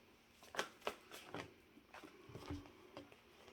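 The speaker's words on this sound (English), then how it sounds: "Now, you saw me shuffle those cards," Soft crisp riffling bursts of cards being shuffled, a few quick flurries close by, quiet overall.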